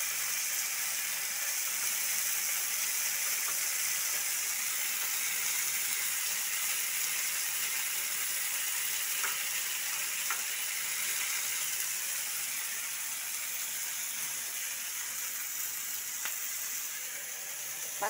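Food fries in hot oil, giving a steady, soft hiss of sizzling that carries on without a break, with faint occasional clicks and no speech.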